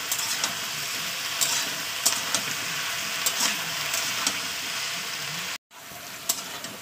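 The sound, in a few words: boiled figs frying in oil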